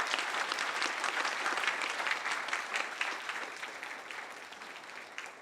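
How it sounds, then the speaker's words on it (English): Dense, warm applause from a conference audience for the panelists of a discussion on banking in Asia, loud at first and gradually thinning toward the end. "join me to give a warm, a big round of applause to the panelists"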